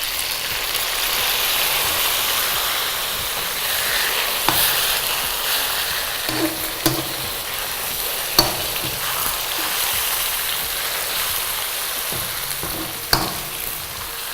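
Tomatoes fry and sizzle in a pan while being stirred for a mushroom gravy, with a steady close hiss broken by a few sharp clicks of the spoon against the pan.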